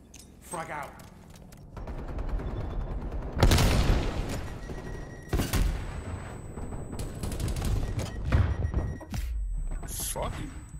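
A frag grenade explodes during a Call of Duty: Black Ops Cold War multiplayer match, one heavy boom landing amid scattered gunfire and other blasts, with players talking over the game audio.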